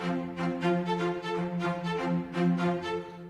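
Layered orchestral downtempo drop with cello parts among sustained strings, steady pulsing chords and a dense mid-low string texture, moderately loud and continuous with no voices.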